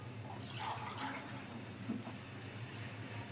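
Water poured into a pot of soaked sago being boiled for pesara pappu sago payasam, a faint, steady splashing wash with no talk.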